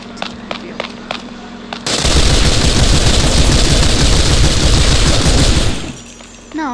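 Sustained burst of automatic gunfire in the mobile game MadOut2, loud and dense for about four seconds after a few sharp single shots, then fading into quieter game ambience.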